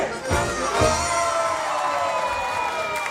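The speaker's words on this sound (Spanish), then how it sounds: "A la de 3, aplauso y grito" A concert crowd at a show claps and shouts together on cue, loud cheering and whoops filling the space with sustained crowd noise.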